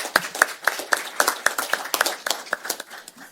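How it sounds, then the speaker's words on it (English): A small group claps at a Board of Supervisors meeting, with distinct individual hand claps sounding close and uneven and loosely rhythmic, thinning slightly toward the end. "So a big round of applause for the people who do some of the hardest work out there."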